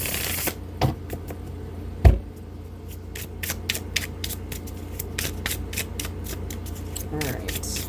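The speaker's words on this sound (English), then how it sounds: "All right, let's get a good shuffle here." A tarot card deck is shuffled by hand in quick riffling bursts, crisp close flutters and taps repeating irregularly, with a couple of louder knocks early on and no talk.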